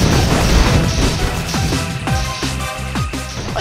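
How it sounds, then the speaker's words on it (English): Asteroids shot apart in the Super Stardust HD space shooter erupt in a dense string of crashing explosions, each blast trailing a falling synth sweep over steady game music. "I'll just continue shooting the asteroids."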